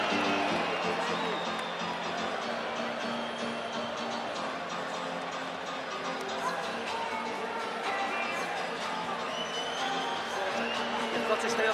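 A boxing crowd in a Belfast arena, fans cheering and roaring to lift their fighter, a steady broad wash of crowd noise throughout with a commentator talking over it.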